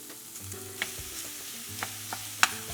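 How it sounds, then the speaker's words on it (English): Ground turkey breast fries in a pan with a soft, constant sizzle and a few scattered utensil taps and scrapes, including one sharp clink near the end. "This is our ground turkey breast. So we're gonna throw that in the pan."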